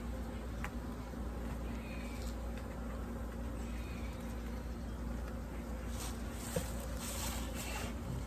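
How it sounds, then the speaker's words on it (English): Honey bees buzzing around a frame pulled from a hive during a December winter inspection, a continuous low droning hum with individual bees passing close now and then. "shake that one bee off this frame"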